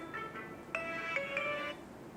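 Telephone ringback tone on an outgoing call, heard as a few clear steady electronic tone bursts that repeat at an even pace, with no talk over them.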